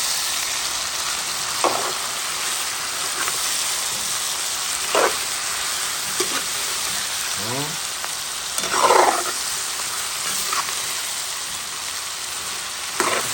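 Beef and carrots frying in a pan with clove powder, a continuous hiss of sizzling oil with scattered clinks and scrapes of stirring, one louder scraping stir midway, with no talk.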